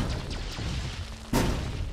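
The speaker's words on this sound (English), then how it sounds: "And then I'm gonna hit the second layer of bombs" Bombs going off in the game Fallout Equestria: a few muffled booms, then one sudden, sharp, loud blast near the end.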